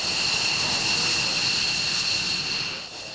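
An Air National Guard fighter jet takes off from Otis Air Force Base on Cape Cod. Its loud, continuous roar holds steady for several seconds, then eases slightly at the end.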